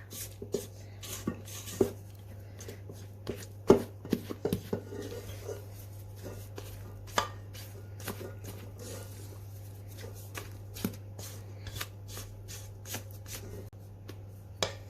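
Soft, intermittent scraping and tapping as a spatula stirs thick brownie batter in a bowl, irregular light clicks over a steady low hum, close and quiet without talk.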